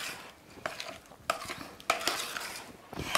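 Orange slices are stirred in a bowl, with a spoon clinking and scraping against the sides in a few irregular strokes, close up and fairly quiet with no talking.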